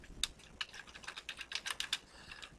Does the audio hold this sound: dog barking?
no